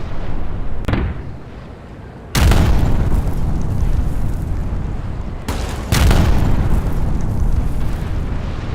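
Ship cannon broadsides from a naval battle in Napoleon Total War, with two loud booming volleys landing at about 2.4 and 6 seconds over a constant roar of battle and a fainter thud near the start.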